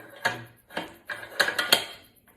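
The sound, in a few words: magazine sliding into Noreen ULR-X .50 BMG rifle and locking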